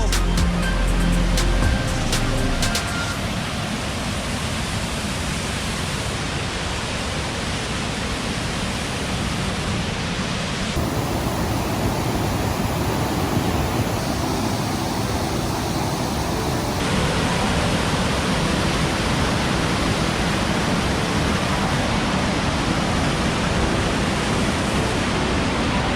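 Fall Creek Falls in Tennessee roars with a dense, steady wash of falling water, loud and close, a constant broadband rush that never lets up.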